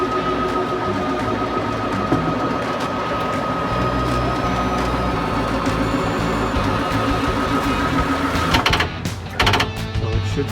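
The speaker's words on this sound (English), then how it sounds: "That noise is normal. That means the clutch is working." Continuous mechanical grinding and whirring from the working actuator clutch on the generator of a 1988 Wanderlodge WB bus, steady and close, with clattering bursts toward the end.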